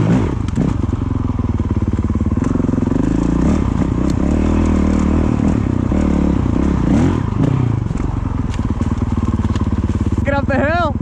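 A Honda Grom motorcycle rides along with a steady, loud engine drone and bumpy clatter, recorded close up, while a voice talks over it and the engine note shifts as it climbs.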